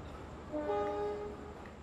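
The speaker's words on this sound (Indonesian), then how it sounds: "itu rangkaian kereta api Dharma Wangsa Express tengah dilangsir ya" Faint at night inside Surabaya Pasar Turi station, the Dharmawangsa Express is shunted while a long horn-like tone sounds briefly over a low rail rumble.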